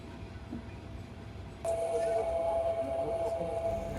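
The Rupashi Bangla Express rolls into Bhanga Junction with a steady low rumble, then a sustained high whistle or squeal joins and continues as the intercity train arrives.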